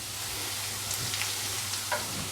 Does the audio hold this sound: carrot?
yes